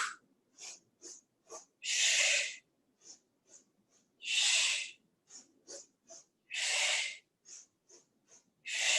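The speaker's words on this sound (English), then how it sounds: "Sniff, sniff, sniff." Sharp nasal sniffing inhalations during a Pilates breathing exercise, quick short sniffs in sets of three alternating with longer, louder breaths, fairly close and with no talking.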